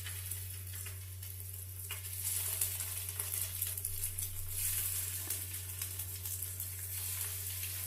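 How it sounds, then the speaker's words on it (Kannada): Egg pieces sizzling in hot oil on a tawa, a steady close hiss and crackle that runs without a break and swells a little midway, with a low hum underneath and no talking. "ಎಣ್ಣೆ ಹಾಕೊಂಡಿದ್ದೀನಿ, ಚೆನ್ನಾಗಿ ಕಾದಿದೆ ಹಂಚು. ಇವಾಗ ಇದನ್ನೆಲ್ಲ ಇಡ್ತಿದ್ದೀನಿ ಒಂದೊಂದಾಗಿ."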